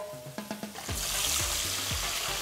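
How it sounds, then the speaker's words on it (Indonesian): Fish dropping into hot oil for ikan goreng, home cooking alongside nasi liwet: a few sharp splashing impacts, then a loud steady sizzle and bubbling that fills the rest, close up with no talk. "Kalau langsung ke goreng mantep gini, keluar bubble-bubble, tandanya ini bagus minyak panasnya."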